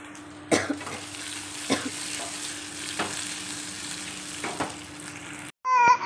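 Food frying and being stirred in a home kitchen pan while being roasted well before sambar is added: a steady sizzle runs throughout, broken by several sharp scraping stir strokes, ending with a brief louder burst.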